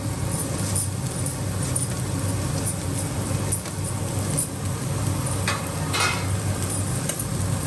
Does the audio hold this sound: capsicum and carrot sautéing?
yes